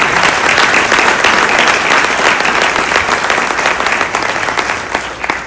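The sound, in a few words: audience applause for the team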